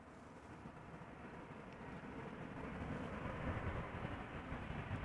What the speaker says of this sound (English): an Embraer 190 that is coming in from London City